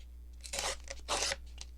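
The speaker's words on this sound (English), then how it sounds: "And we'll tear these into tag shapes." Painted paper, still wet, is torn into tag shapes in two close, brief rips with a soft crinkle in between.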